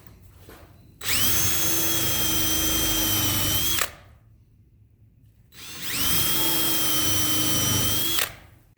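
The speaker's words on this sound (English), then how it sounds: "what the countersink does, there's our countersink, is it drills us a pilot hole" A power drill with a countersink bit bores a pilot hole in wood while building a sturdy workbench, giving two loud, steady whining bursts of about three seconds each, split by a short quiet gap.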